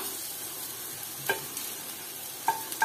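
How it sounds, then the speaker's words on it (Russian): Apple pancakes fry in a pan with a steady, soft sizzling hiss, broken by a few sharp clicks of a utensil against the pan, close by and with no talking. "Вот так вот я их жарю."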